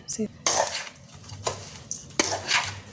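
A spoon stirs rava semolina batter with milk in a small bowl, making a few close, scraping clinks against the vessel in short uneven strokes, with quieter rustling between them.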